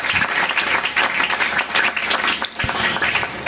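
A church congregation applauds in praise, a steady, loud wash of many hands clapping together without pause for the whole few seconds.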